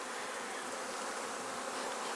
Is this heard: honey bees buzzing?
yes